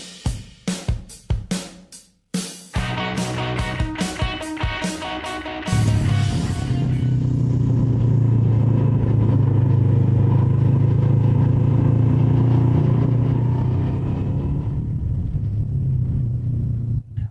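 A Honda NX500 motorcycle ridden up close: a few sharp clattering hits and revs at first, then a loud, steady engine rumble holding its pitch and slowly easing off, with no talk.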